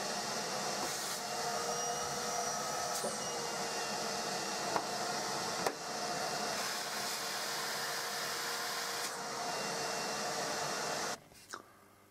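A shop vacuum draws air through workshop dust extraction pipework and a cyclone, giving a steady, loud whooshing drone with a few brief clicks, then it cuts off abruptly near the end.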